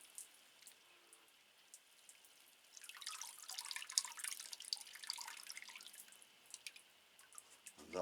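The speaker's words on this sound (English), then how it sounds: "Give it a good watering." Water pouring and splashing over a potted Cattleya orchid, a soft spattering trickle that swells for a few seconds and then thins to drips, faint and close after a near-silent start.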